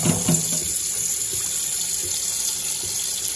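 Rice being rinsed under a running faucet at a kitchen sink, water splashing steadily and close throughout, with a few soft sloshes of grains stirred in the bowl at the start.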